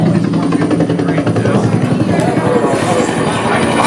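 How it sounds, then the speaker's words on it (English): A helicopter sound effect plays through a surround-sound exhibit at a Ripley's Believe It or Not attraction in Branson, Missouri: a loud, steady rotor thumping and engine roar filling the space, with people talking over it. "Let's try a vehicle or a helicopter."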